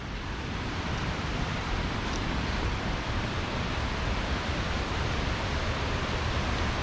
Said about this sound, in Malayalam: വെള്ളം കുത്തിയൊലിച്ച് വരുന്നതിൻ്റെ നല്ല സൗണ്ടും ഉണ്ട്.